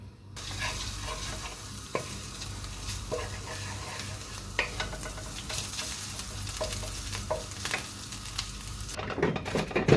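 Ginger garlic paste fries in olive oil with a loud, continuous crackling sizzle. A spoon stirs and scrapes the pan now and then, and the sizzle flares sharply near the end.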